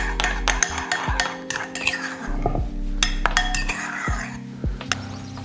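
A spoon clinks and scrapes against a bowl while natural yogurt is stirred into a marinade for tandoori trout, giving close, irregular metallic taps and stirring sounds.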